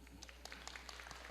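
A church congregation applauds with soft, scattered clapping, faint and fairly distant, under a low steady hum.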